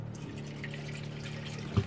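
A pressurized water faucet runs steadily in the galley of a CS 27 sailboat cabin, a soft continuous rush and trickle close by, ending in a brief louder splash or clunk.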